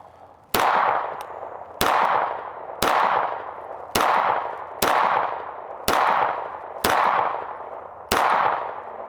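Eight sharp pistol shots from a Kimber 2K11 Eclipse, fired at a steady slow pace about a second apart, each loud crack ringing out with a short decaying tail, no talking.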